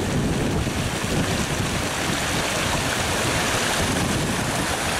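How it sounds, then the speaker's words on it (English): Wind-driven sea waves crashing over a seawall as the tide comes in, a loud unbroken roar of surf and wind buffeting the microphone, steady throughout with no voices. "See the waves being blown up over the seawall"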